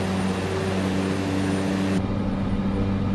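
Steady engine drone of a Kodiak Caravan aircraft landing in Microsoft Flight Simulator 2024, a loud continuous hum with propeller buzz that loses its upper hiss partway through, no voices.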